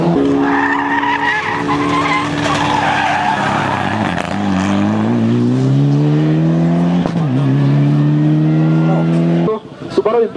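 A Subaru Impreza rally car races through a stage at speed, engine roaring loud and near with rising pitch as it accelerates past, tires scrabbling on the surface, before the sound cuts off abruptly.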